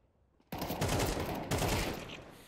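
Rapid gunfire in the Counter-Strike 2 video game, a loud sustained burst of automatic shots after a brief quiet start, with a second sharp volley midway, dense and close.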